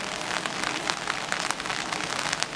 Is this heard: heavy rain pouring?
yes